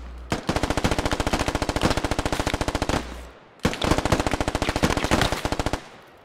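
Automatic gunfire in the tactical shooter SquadOps, two long rapid bursts of evenly spaced shots with a brief gap between, loud and close.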